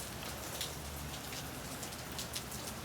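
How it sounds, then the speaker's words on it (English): Heavy rain from tropical storm Hurricane Hilary pouring down in San Diego, a dense, even hiss of drops with occasional louder splatters, steady and continuous. "this is our massive amount of rainstorm we're getting"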